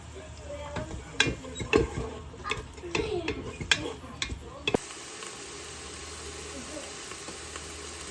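Food sautés in a pan while seasoned black beans are being cooked: soft sizzling with scattered clinks and stirring taps for several seconds, then a steady low hiss of frying carrying on alone.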